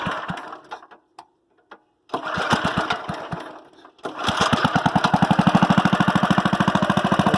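A Lickity log splitter's small engine sputters through a few brief attempts separated by silences, then catches and settles into a loud, rapid, steady chugging run.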